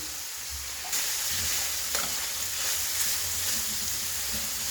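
Onion and carrot sizzle steadily in a frying pan for goulash, a constant crackling hiss at moderate loudness, with an occasional stir or scrape of the pan and no voices.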